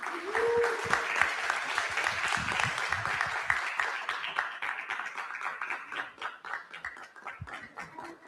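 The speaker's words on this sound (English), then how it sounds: "If there's anyone this morning that we need to clap extra loud for, it is Ms. Ingrid." An audience at a tech launch event claps to welcome a speaker, a dense sustained round of applause that gradually thins toward the end, with faint talk early on.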